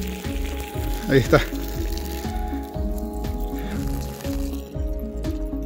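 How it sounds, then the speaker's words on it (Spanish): Water runs from the far end of a hose fed by a 12V battery-powered solar water pump, giving a steady low hum with a brief splashing burst early on, while someone talks over it. "Y por el otro extremo de la manguera ya comienza a salir el agua."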